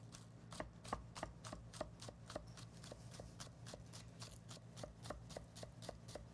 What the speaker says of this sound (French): on va y rajouter des échalotes vertes qu'on va couper finement